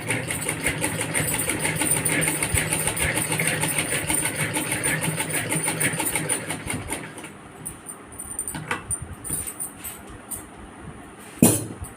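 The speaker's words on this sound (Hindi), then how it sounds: "अब चलिए यहाँ की सिलाई शुरू करते हैं।" A sewing machine stitches a denim mobile phone cover, running in a steady continuous whir for several seconds, then slowing into lighter intermittent clicks and a final knock, close up with no talking.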